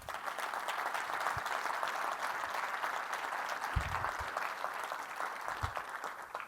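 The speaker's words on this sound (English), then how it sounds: "Michelle, we should applaud for NC Innovation." Steady applause from an audience at an innovation ecosystem summit, a dense wash of many hands clapping at moderate distance that holds evenly throughout, with a few low thumps underneath.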